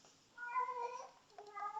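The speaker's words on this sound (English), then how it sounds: "Sorry about the cat, it's being a pain at the moment." A house cat meows indoors, two drawn-out plaintive cries in quick succession, the first longer and wavering, the second shorter, fairly close but soft against a quiet room.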